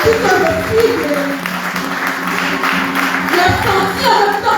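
A church congregation applauding during a healing testimony service, a broad wash of clapping mixed with voices speaking and calling out over it.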